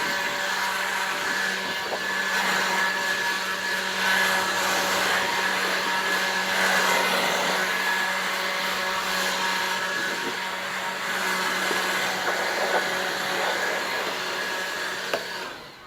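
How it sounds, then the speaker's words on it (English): A blower blasts grass clippings off a riding mower deck with a steady, whooshing drone that holds at a fairly even level throughout, slightly rough and wavering, with no talking. "we start with the blower and we start blowing off the deck"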